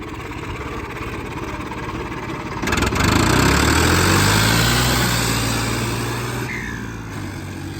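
A tractor engine chugs at idle close by, then revs up into a louder, rising drone before settling back to a steady rumble.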